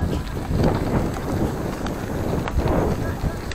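Steady, rushing wind noise buffeting the microphone throughout, with a low rumble underneath, recorded while riding along dirt country roads in Vietnam.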